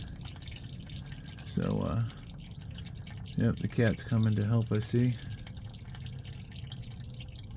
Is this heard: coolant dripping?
yes